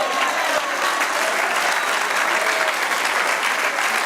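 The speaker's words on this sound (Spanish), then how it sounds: "Denle aplauso al Señor" A church congregation claps steadily, a dense, even wash of applause that holds at full strength from start to finish.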